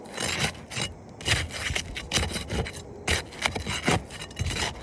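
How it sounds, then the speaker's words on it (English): Brittle old roof shingles being ripped and pried off plywood during a roof repair, loud close rasping and scraping in repeated bursts with brief pauses between pulls. "So we have to get all these shingles off."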